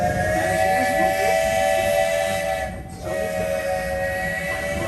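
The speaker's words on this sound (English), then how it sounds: "That was the train." A train at Walt Disney World's Magic Kingdom park gives a steady, loud mechanical drone with sustained whistle-like tones that dip briefly near the end. No one speaks.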